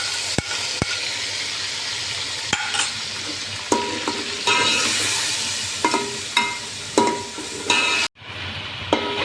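Loud, steady sizzling of minced meat frying in a hot pan, broken by several sharp clinks of a utensil stirring, then a brief drop in the sizzle near the end.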